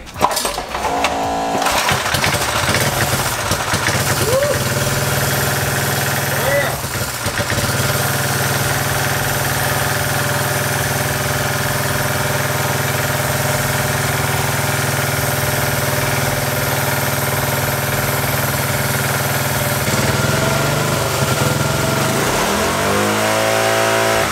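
Twin engine all-wheel-drive mini bike being started and left running, a steady loud small-engine drone with brief revs near the start and a shift in pitch late on, close by with no talk.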